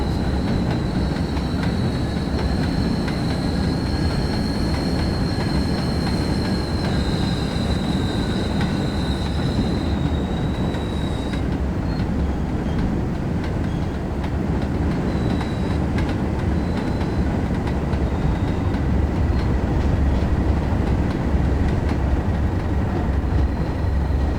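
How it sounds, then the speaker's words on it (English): A Class 37 diesel locomotive hauling a heavy train on the Tees Valley Line in the Train Sim World 2 game makes a loud, continuous rumble of wheels on track, with high squealing tones drifting over it throughout. "For those that like the noise of the trains on the track, that is making a lot of noise."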